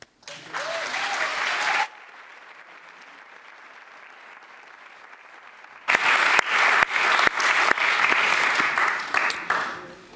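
An audience at an Amsterdam arts and culture talk event bursts into applause, stops for a quiet lull of a few seconds, then claps again louder and denser until the end.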